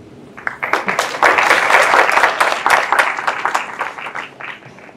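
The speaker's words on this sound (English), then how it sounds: "Please give a big round of applause to Vaishnav." An audience at an English discourse on Chanakya Niti breaks into applause, a dense wash of many hands clapping that swells and holds for several seconds before tapering off, with no speech over it.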